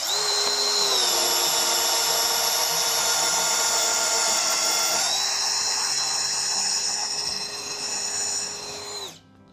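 A Ridgid subcompact cordless drill/driver (R87012) in drill mode on setting 1 whines at a steady high pitch as it bores through material, shifting speed partway through before spinning down at the end. The sound is close and loud, with no talking.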